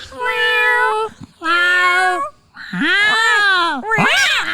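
A person imitates a cat with three drawn-out meows and a shorter fourth, loud and close, with brief pauses between them.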